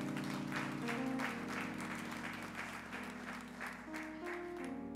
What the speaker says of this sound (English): Let's give them a round of applause for service.